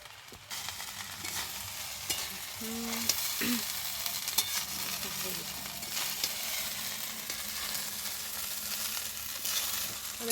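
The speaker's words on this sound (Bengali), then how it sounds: "এই যে দেখো এবার ঘি দিচ্ছে" Fried rice sizzles steadily in a pan over a small home wood-fired clay stove as ghee is added, a continuous close frying hiss with occasional stirring scrapes throughout.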